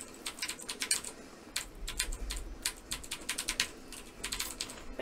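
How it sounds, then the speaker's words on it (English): Rapid keystrokes on a computer keyboard while playing The Typing of the Dead, clicking in quick uneven bursts with short pauses, close and steady with no talk. "Well, Brad's the one typing."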